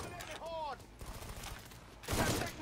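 Gunfire in the video game Mafia 3, a couple of sharp shots and a louder burst near the end, mixed with game sounds and a speaking voice.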